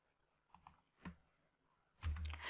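Computer keyboard keys are pressed in a quiet room, a few soft separate taps followed by a louder, heavier key press near the end.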